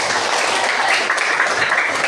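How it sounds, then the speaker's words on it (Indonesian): A class of students applauds in a classroom with dense, steady clapping lasting about two seconds, fairly loud and without any voices. "Kita beri tepuk tangan."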